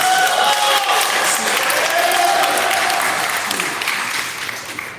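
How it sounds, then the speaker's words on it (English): The crowd at a LEGO fan convention applauds loudly and steadily for a Hero Factory display, the clapping gradually tapering off toward the end. "Give a little round of applause here for the Hero Factory"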